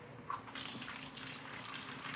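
Tap water runs steadily into a kitchen sink as dishes are washed, a soft continuous splashing stream with no voices.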